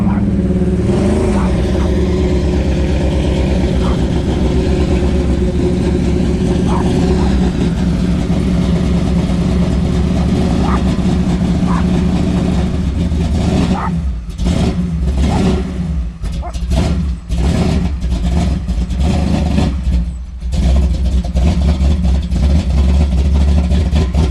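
A truck engine idles and then revs hard in bursts, loud and close, as the wheels spin in mud before the vehicle is pulled onto gravel.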